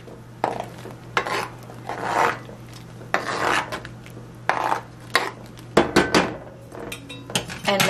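Arroz con dulce ingredients are stirred in a metal pot, with a utensil scraping and rasping against the sides and bottom in repeated strokes. The scrapes come faster and clatter more toward the end.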